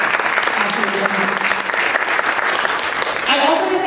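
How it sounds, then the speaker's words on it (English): An audience at a talk on faith and feminism applauds for the media services crew, a steady full round of clapping that fills the room, with a voice starting to speak at the end. "Go ahead and give them a round of applause."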